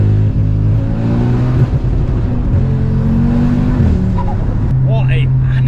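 A VW Golf R fitted with a 640 bhp Audi RS3 2.5L five-cylinder engine accelerates hard in second gear. The loud, close engine drone climbs steadily in pitch, with a brief dip as it pulls.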